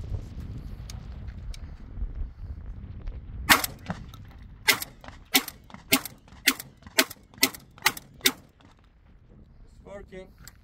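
A Maestro 12-gauge bullpup shotgun fires 32-gram test loads: about eight sharp, loud reports in rapid, evenly spaced succession, close by, after a few seconds of low background rumble.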